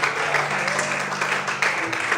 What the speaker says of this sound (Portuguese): levanta sua mão, glorifique e aplauda a Deus nesta manhã, em nome de Jesus.